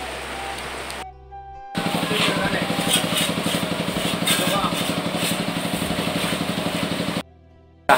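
A motorcycle engine idles in a Sundanese village on an afternoon after rain, a steady pulsing putter that holds for several seconds before cutting off, with quieter ambience before and after.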